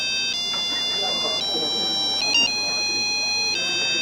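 A cell phone ringtone chimes in steady electronic tones that shift pitch in steps, heard in a busy hall packed with Star Wars fans, with crowd chatter underneath.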